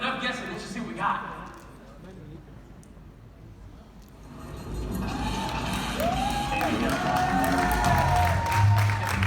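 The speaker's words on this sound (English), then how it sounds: "Let's cheer." Audience at a morning-show event in Goa cheering and applauding: after a quieter stretch with a voice, a swelling wash of clapping and crowd noise builds and holds loudly to the end.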